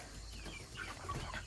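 Farmyard chickens give a few short, faint clucks over a steady low background hum.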